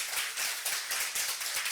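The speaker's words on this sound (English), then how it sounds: "Round of applause." Applause from an audience at a cancer survivorship conference, a steady burst of many hands clapping close together for nearly two seconds with no talk.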